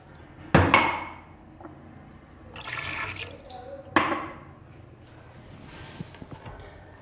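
About a glass or so of water is poured into a pressure cooker holding mutton, with a brief splashing pour between two sharp metallic clanks, fairly close and quiet.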